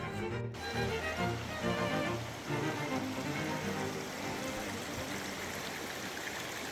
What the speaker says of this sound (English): got a little tiny creek coming out of here